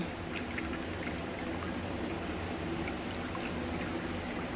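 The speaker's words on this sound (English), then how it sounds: "I allow it to drain back down into this pot" Water drains from a potted orchid down into a pot below, a continuous even trickle and splash that holds steady throughout, with no voices.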